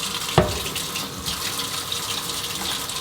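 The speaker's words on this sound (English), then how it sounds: "I said I'm going to rinse my hands off." Water runs steadily from a kitchen tap while hands are rinsed under it, a continuous close hiss with a brief splash near the start and small shifts in flow.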